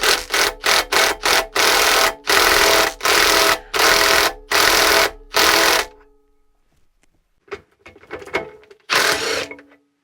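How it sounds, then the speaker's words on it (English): An air impact wrench hammers loose the hub nut on a Lambretta scooter's rear wheel, a series of loud, close, rattling bursts in rapid rhythm, followed by quieter clanks and a final short burst. "put the rattle gun on it"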